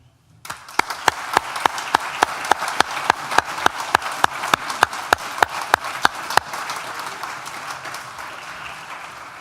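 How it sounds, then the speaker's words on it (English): Audience applause at a university graduation ceremony for the School of Arts and Humanities, a crowd's steady clapping with a run of sharp, evenly spaced louder claps standing out, lasting several seconds before easing into diffuse fading applause. "please join me in a round of applause"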